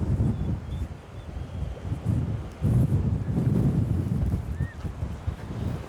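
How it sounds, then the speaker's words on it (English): Strong coastal wind at Struisbaai in South Africa's Western Cape buffets the microphone in loud, uneven gusts, with a steady low roar that swells and eases throughout and no voices. "Careful the wind doesn't blow you away."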